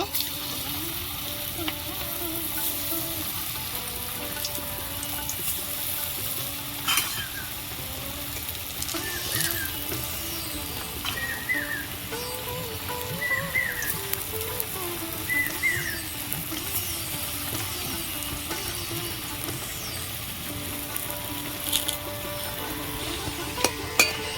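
Pieces fry in oil for a vegetarian version of fish curry, a dense, steady sizzle close by with occasional stirring scrapes and faint background sounds throughout.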